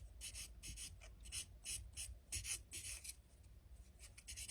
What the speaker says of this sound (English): So I'm going to just buff off the roughness a little bit